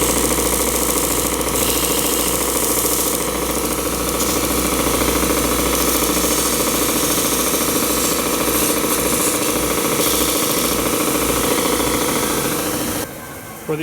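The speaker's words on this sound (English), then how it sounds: "it's easy now to come to the sander and sand it down to your line" A power sander runs continuously, steady and loud and close, as it sands a model float plane part down to a marked line, then cuts off abruptly near the end.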